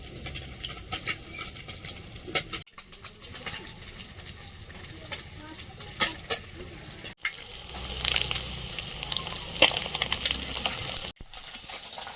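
Pencil bogo fish pieces fry in hot oil in a pan, giving a continuous crackling sizzle with sharp pops and occasional stirring clinks, with birdsong and faint voices in the background.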